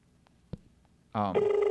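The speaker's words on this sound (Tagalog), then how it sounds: "nagring po ang sa iyang cellphone" A cellphone rings during a Bicol-language afternoon broadcast, a loud electronic ring tone with a steady tonal buzz that starts abruptly after a quiet stretch with faint clicks.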